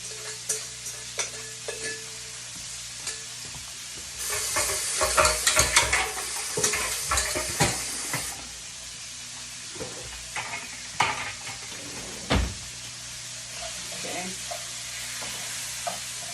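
Flaked saltfish stirring and frying in a pan for Jamaican ackee and saltfish, a steady background sizzle with clustered scraping stirs, busiest in the middle stretch, heard close with no talking.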